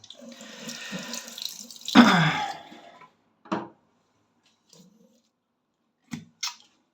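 Cold water runs from a tap into a sink in a steady stream for about three seconds, then stops, followed by a few short splashes and drips in an otherwise quiet room.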